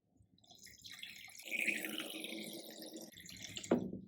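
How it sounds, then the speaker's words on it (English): Water pours into a glass and trickles steadily for a few seconds, a bright splashing stream with a short clink or drip near the end. "we'll need a glass and we'll just fill it up with some water"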